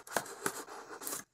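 Packaging being cut off a pin box, a few quick crisp snips and rustles in short bursts, close and fairly quiet, no talking.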